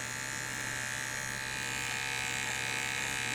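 A nose and facial trimmer buzzes steadily and close up while trimming knuckle hairs. The electric whine holds at an even level throughout, with no voices.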